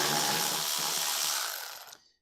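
A Milwaukee electric ratchet whirs in a steady burst while pulling parts off a Jeep 4.0 engine, running close and loud for about two seconds before cutting off.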